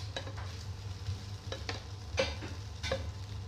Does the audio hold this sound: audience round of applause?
no